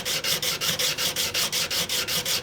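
A Stanley #151 spokeshave blade is stroked back and forth across a sharpening stone, about a dozen even, rhythmic rasping rubs in quick succession, close and clear with no talk.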